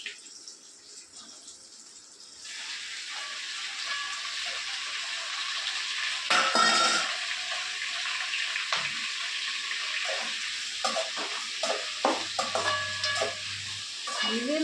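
Tomatoes sauté in a pan with a soft continuous sizzle and wet stirring scrapes, growing louder as they are added and mixed, close and with no talking.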